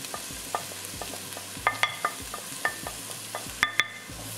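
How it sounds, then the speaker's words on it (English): Spices stirred in a frying pan for chili con carne: a quiet sizzle under a series of irregular spoon scrapes and taps against the pan, close and alone without speech. "Give it a stir and try and get those spices in."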